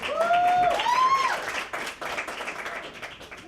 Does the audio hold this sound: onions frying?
no